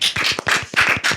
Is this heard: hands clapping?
yes